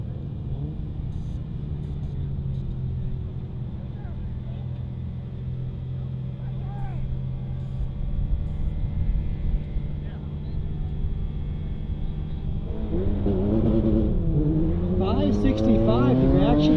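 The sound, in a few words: Toyota MR2 and BMW drag racing cars launching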